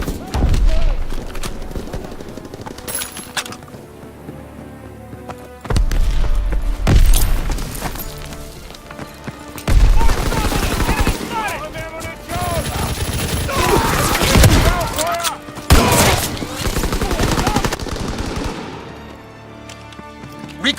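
Dense gunfire in a Call of Duty WW2 team deathmatch on PC, rapid loud bursts of automatic and single shots with booming impacts coming in waves, mixed with in-game voice callouts.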